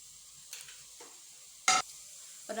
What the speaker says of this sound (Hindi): और अब जो मैंने रसगुल्ले तैयार किए हैं ये एक एक करके मैं इसके अंदर डालूँगी।